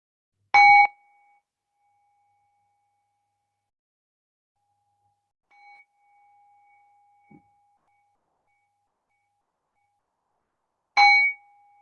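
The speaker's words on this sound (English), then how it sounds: "And then when you hear the sound of the bell, just noticing, as always, what arises" A meditation bell rings twice in a quiet room, each strike giving a clear metallic ring that fades. The strikes open and close a long stretch of near silence.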